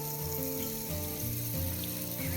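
Water gushes steadily from the pipe of a running farm pump motor, a continuous close hiss and splash with a faint underlying motor hum.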